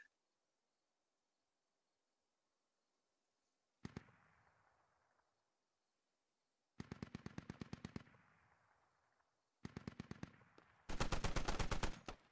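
Automatic weapon fire in the video game Squad, during an online match: separated rapid bursts of shots, sharp and close, with a final sustained loud burst, between stretches of near silence.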